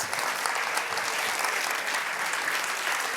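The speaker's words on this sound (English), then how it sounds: "give a major applause to all the Impact Award winners." Audience applause for award winners at a science and innovation awards finale in Amsterdam, a sustained, even roar of many hands clapping without pause.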